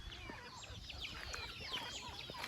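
A flock of native country chickens in a fruit-orchard farm clucks and chirps in overlapping, busy bursts from several birds at once, fairly close but fairly quiet, with no talk over them.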